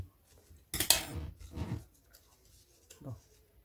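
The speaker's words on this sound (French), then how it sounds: "on va le plier comme ça et on découpe les trucs qui dépassent" Paper card folded and trimmed with scissors for a pop-up surprise card, giving a few short crisp snips and rustles close by, separated by quiet pauses.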